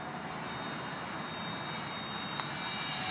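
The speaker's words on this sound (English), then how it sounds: "Watching Jeffro fly this jet" A Parkzone Habu 2 RC model jet flies overhead, its ducted-fan engine producing a steady, loud, high-pitched whine that holds constant throughout with no talk.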